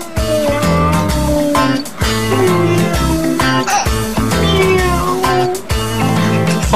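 Repeated cat meows sound over loud, rhythmic background music that plays throughout.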